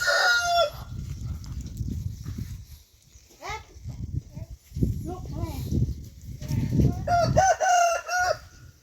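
A rooster crows on a Thai farm where ducks and chickens are kept, loud and close, once at the start and again near the end, with someone talking in between and other fowl clucking faintly.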